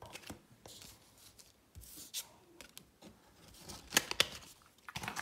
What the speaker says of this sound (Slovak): Vyrovnáte si karty. A dáte si tieto karty na vrch.